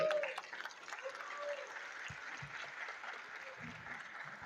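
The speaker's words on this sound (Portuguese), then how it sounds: "Uma salva de palmas, professora." An audience at an antiracism researchers' conference claps for a professor stepping onto the stage, soft and somewhat distant applause with a voice briefly heard over it and a few low thumps.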